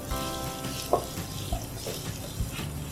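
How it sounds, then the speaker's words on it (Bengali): Ingredients for a tilapia fish bharta frying in oil in a pan, a constant close sizzle with a few soft clinks and stirring knocks. "এই উপাদানগুলোকে দুই মিনিট তেলের উপরে ভেজে নেব"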